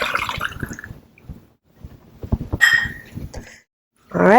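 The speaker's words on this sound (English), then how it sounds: "pour in our distilled water" Distilled water poured from a half-cup measure into a container while making homemade mouthwash: irregular splashes and drips, then a fuller trickle near the end, close by and fairly clear, with a gurgling quality.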